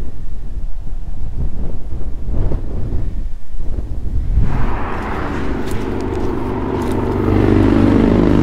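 Strong wind buffeting the microphone on a fishing trip, a loud continuous roar that swells and shifts, growing heavier toward the end, with no voices.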